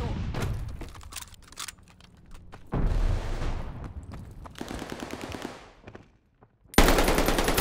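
Bursts of automatic gunfire rattle through a Call of Duty Vanguard firefight, then fade into a brief lull before a loud, close grenade explosion erupts at the end.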